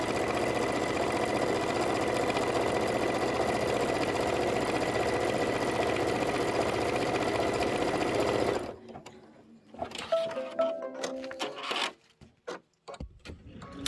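A sewing machine runs a zigzag stitch in a steady, fast mechanical whir for about eight seconds, then stops, leaving scattered soft clicks and handling noises.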